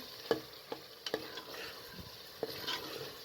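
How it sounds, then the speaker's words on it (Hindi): Mashed lentils (daal mash) being fried and stirred in a pot, a faint, quiet scrape and light sizzle broken by a few sharp clinks of the spoon. "दाल शामिल करके मज़ीद अच्छे तरीके से 5 से 8 मिनट तक अच्छे तरीके से इसे भून लें"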